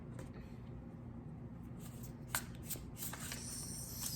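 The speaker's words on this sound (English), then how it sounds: "I'm going to pick a card, or maybe two." Tarot cards handled and picked from a deck in a quiet room, a faint papery shuffling and a few soft slides and taps, low in level with little else around.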